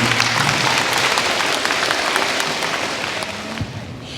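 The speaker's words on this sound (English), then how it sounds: "Give him a round of applause, please." Audience applause at a 5th grade DARE graduation, a dense roomful of clapping that holds steady and then slowly fades.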